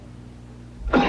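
A single harsh cough in a TV commercial for cough and congestion medicine, one short burst at the very end after a quiet lead-in.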